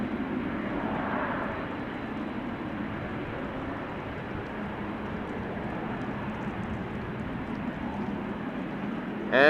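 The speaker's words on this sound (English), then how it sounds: "215 arriving from Jeddah. Special livery 7879 Dreamliner." A Saudia Boeing 787-9 Dreamliner in special National Day livery arriving at Amsterdam Schiphol, heard as a distant, steady low jet rumble without talk.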